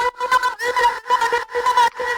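High-pitched, heavily processed vocal layer from an Indian-style trance track, panned wide, sounding in pulsing phrases with brief gaps between them, fairly loud and alone.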